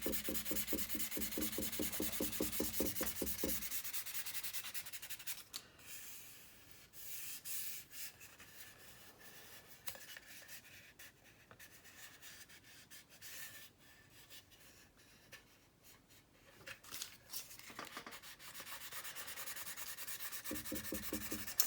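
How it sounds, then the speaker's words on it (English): Raised panel detail is sanded off a 1/48 scale PB4Y-2 Privateer model plane, heard as steady, close rubbing and scraping strokes that pause and resume. "make sure that I've got all the raised detail sanded away"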